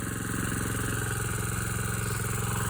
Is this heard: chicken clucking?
no